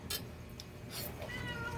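A hungry cat meows for food at a family meal, a few close, plaintive cries standing alone over a quiet room.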